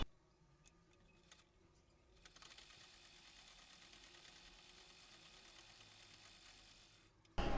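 A sewing machine stitching fabric for a bell sleeve runs with a faint, steady mechanical whir and light ticking, quiet and continuous with no talk over it.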